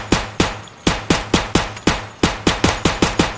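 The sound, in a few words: gunfire in video game Escape From Tarkov VR mod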